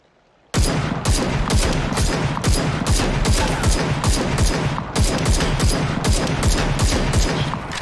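Rapid rifle fire in a video game, sharp repeated shots in quick bursts after a brief silence, loud and continuous with short gaps, no talking.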